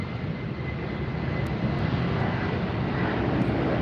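An American Airlines airliner at LAX gives a continuous loud engine roar that builds slightly, close by and unbroken, with no talk over it.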